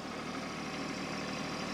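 A tractor engine runs with the PTO engaged and a tiller attached, a steady low rumbling drone that holds even and continuous with no talking.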